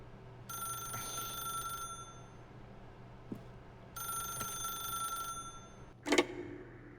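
An old-fashioned telephone in The Stanley Parable video game rings in two long bursts a few seconds apart. It is moderately loud over a quiet ambient bed, with a short sharp sound near the end and no speech.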